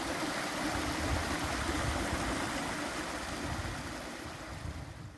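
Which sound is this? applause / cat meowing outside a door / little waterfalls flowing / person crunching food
little waterfalls flowing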